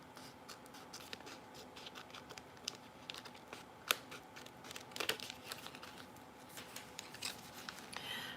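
Scissors cutting straight across paper for a handmade mini book, a faint, close series of small snips and paper rustles with a low room hum underneath, no voices.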